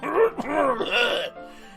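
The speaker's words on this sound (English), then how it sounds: "I clear my throat, hoping that I don't put her off with my evident inexperience." A short voiced throat clearing from a character in the video game Doki Doki Blue Skies: a couple of rough, throaty bursts with a groan-like tone, close and clear, with no other talk.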